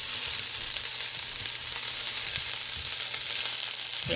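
Onion frying in a brand new pot sizzles with a constant, dense, close-up crackle that stays even throughout, with no voices over it.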